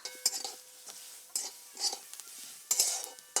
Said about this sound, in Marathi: मी कांदा भाजून घेते आधी वाटण्यासाठी आणि खोबरं पण भाजून घेते